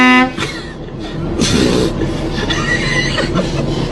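A car horn honks behind amid busy traffic noise in Poland, with some faint voices in the background.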